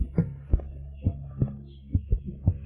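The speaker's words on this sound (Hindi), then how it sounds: "दिल की धड़कन इतनी तेज।" A fast heartbeat sound effect gives quick, muffled double thumps in a steady rapid rhythm, about eight beats in under three seconds, heard alone.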